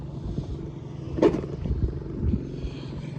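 Stock Honda Dio AF-35 scooter being ridden along a straight road, a low engine rumble with wind noise that swells briefly and stays moderately loud throughout.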